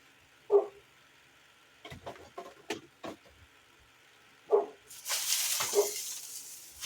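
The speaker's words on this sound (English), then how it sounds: "not Crazy Jane outside barking at something" A few separate dog barks ring out at a distance outdoors, spaced apart, with some clattering of dehydrator trays and a burst of hissing noise in between.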